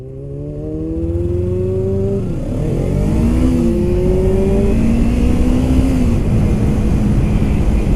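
Kawasaki Ninja 300 motorcycle riding around town, its engine close and loud, revving and shifting pitch up and down over a steady low rumble with wind noise.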